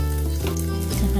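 Garlic frying in hot oil in a casserole pot, the start of a Filipino beef shank tomato stew: a loud, close sizzle with crackling bursts, no voices.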